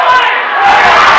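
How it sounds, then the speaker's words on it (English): Home crowd in a high-school boys basketball arena roaring loudly, a dense wall of cheering and yelling that dips briefly and then swells again, close and continuous. "you can hear why with this crowd."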